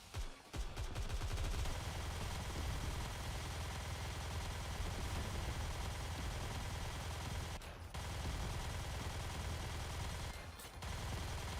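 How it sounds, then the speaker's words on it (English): Minigun machine-gun fire in a video game roars as a dense, continuous rattle of rapid shots, loud and close, broken only by two brief pauses, with no talk over it. "Gotta love the riveting minigun gameplay here."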